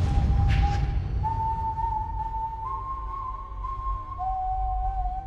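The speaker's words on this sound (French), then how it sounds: "il remarque aussi un loup redoutable sifflant un air étrange" A formidable wolf character in an animated Puss in Boots film whistles a strange, eerie tune, a thin sustained melody with long held notes stepping between pitches, heard over a low rumbling background.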